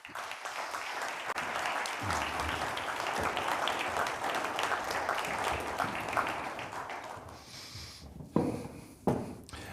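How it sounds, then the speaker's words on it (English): An audience at an annual healthcare conference session applauds steadily as a panel walks up to the stage; the dense clapping lasts about eight seconds, then thins out into a few scattered bumps and handling noises. "can you give them a good round of applause as they come up to the stage, please?"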